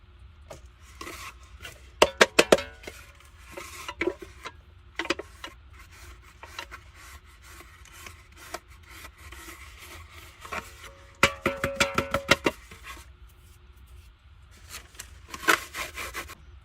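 Flour is rubbed over a grease spill on a kitchen floor with scattered dry scrubbing strokes, sometimes in quick bursts of close scraping with quiet pauses between.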